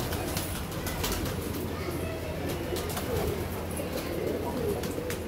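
Pigeons coo inside a room holding many birds of various Madrasi varieties, a steady low murmur of calls over constant background noise with occasional wing rustles.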